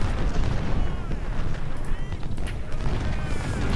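Musket volley in the Civil War strategy game Ultimate General: Civil War: a dense, rumbling wall of gunfire and booming artillery-like blasts rolls on continuously for a few seconds, loud and close, with voices faintly beneath.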